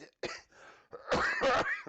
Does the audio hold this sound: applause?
no